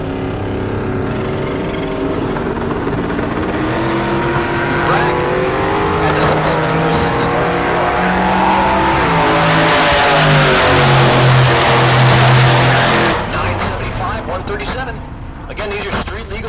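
Street legal drag cars race at Heartland Park Topeka, their engines revving and roaring loudly and climbing in pitch toward a peak before easing off, while an announcer talks over the PA throughout.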